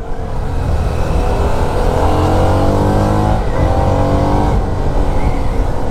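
A CF Moto NK250 motorcycle engine revs hard and steadily climbs in pitch, loud and close, droning continuously throughout.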